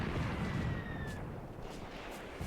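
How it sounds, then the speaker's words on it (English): Distant mortar fire in the wartime tactics game Graviteam Tactics, a low rumbling bombardment with dull thuds under a constant battlefield roar and faint whistles, fairly loud throughout. "I think my mortars are joining in as well."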